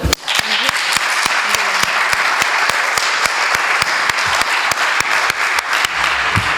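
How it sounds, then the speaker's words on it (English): A hall full of people applauds a speaker at a JCI event in Tarragona. The dense, continuous clapping is loud and even, with sharp periodic clicks cutting through the crowd noise. "So please join me in a big applause for him."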